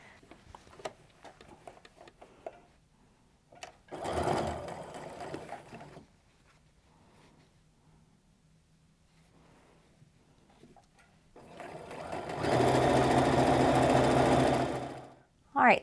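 A sewing machine stitches a seam on a fabric heirloom apron in two steady bursts, a short one and a longer one, with a person talking in the quieter stretches between.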